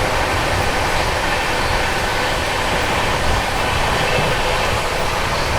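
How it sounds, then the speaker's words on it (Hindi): An Andhra Pradesh Express train rushes past the halted UP Sampark Kranti on Indian rails, making a steady, loud, broadband roar that stays at a constant level for the whole stretch with no pauses. "आंध्र प्रदेश एक्सप्रेस का ओवरटेक मारा है"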